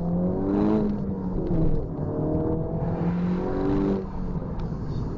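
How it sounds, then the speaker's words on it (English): A 2012 MINI John Cooper Works Coupe pulls hard under acceleration as its overboost comes on, the engine note climbing through rising revs with a brief dip partway and a steady, loud in-car drone throughout. "You gotta love that overboost when it kicks in."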